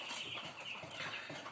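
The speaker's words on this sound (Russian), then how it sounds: "У меня появились цыпляточки." Chicks cluck and peep in a steady, close chatter from a small brood kept at home, with no talk over them.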